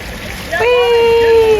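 Water rushing from a small waterfall on a hiking trail at Cynthia Ridge, Oklahoma, a steady loud wash that persists throughout, heard close by with a brief tonal whine rising over it partway through.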